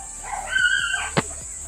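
A dog barks and whimpers close by in a short burst, alone without talk, at a pigeon training spot.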